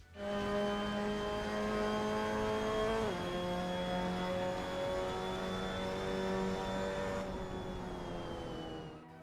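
A Mazda MX-5 Cup car laps Brands Hatch in the Assetto Corsa racing game, its engine droning loud and steady at high revs, dipping through a gear shift and easing off near the end.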